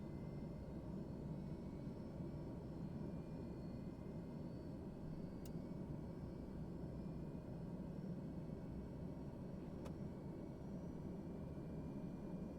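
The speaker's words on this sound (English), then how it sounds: "Okay, we have 2 engine starts." Aircraft engines spool up to a steady, continuous roar in Microsoft Flight Simulator, a dense low drone that holds at constant loudness throughout with no talk.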